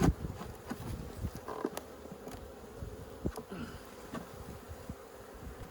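Honeybees drone steadily around an opened hive box during queen rearing work, a dense close buzz with scattered wingbeat passes and light knocks of the woodenware, no voices.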